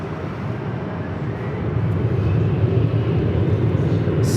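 An airliner at Los Angeles International Airport (LAX) rolls for takeoff on runway 24 as a broad low jet roar swells steadily louder and stays strong, heard from a distance with no speech.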